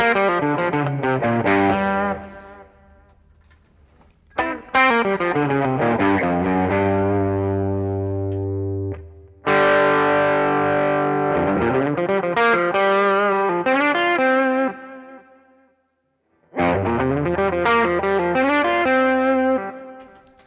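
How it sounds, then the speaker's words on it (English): Electric guitar through a Zendrive overdrive pedal with its voice control turned up, playing loud distorted chords and sustained notes in three phrases separated by short pauses, close and alone with no talking. "if I turn the voice control up,"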